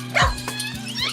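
A dog gives a few short barks and yips at close range, loud and clear with a whimpering edge, no people talking.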